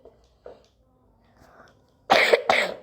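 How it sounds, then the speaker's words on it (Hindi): Two loud, harsh coughs in quick succession near the end, preceded by a few faint breaths and small vocal sounds in a quiet room. "वैसे गाइस मुझे भी खांसी है"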